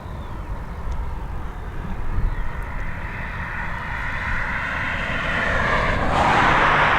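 An Aer Lingus Airbus A320 airliner departs for Amsterdam from Dublin Airport, its broad engine roar building steadily and growing louder and brighter toward the end.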